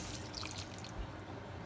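Broth pours into a pan while beef rouladen cook, a soft, continuous liquid splashing and dribbling heard close up and fairly faint over its brief duration.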